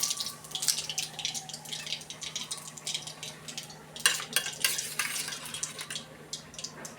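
Radhuni spice crackling as it tempers in hot oil in a wok, a steady close sizzle with bright spitting pops and occasional stirring scrapes throughout.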